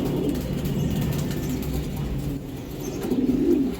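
Club-raced racing pigeons coo in low, rolling murmurs close by, growing a little louder near the end over a dense background rumble.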